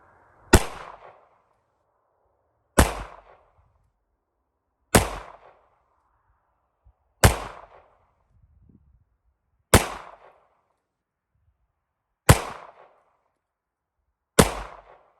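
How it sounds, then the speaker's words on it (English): Seven sharp, loud pistol shots from a Smith & Wesson M&P Shield Performance Center, evenly spaced about two and a half seconds apart, each with a short echoing decay and nearly silent gaps between them. "now I'm going to be firing a real firearm"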